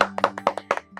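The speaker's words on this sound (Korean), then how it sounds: "박수 한번 치고 합니다." About seven or eight separate hand claps from one person, close and sharp, in a loose uneven rhythm, with a low steady hum underneath and no talk.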